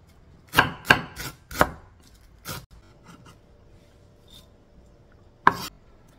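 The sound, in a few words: chopping vegetables with a knife for cabbage dumplings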